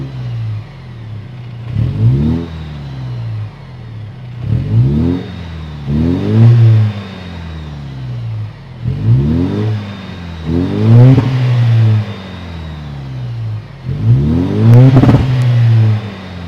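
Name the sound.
Toyota 4Runner TRD-Pro 2.4-liter turbocharged hybrid engine running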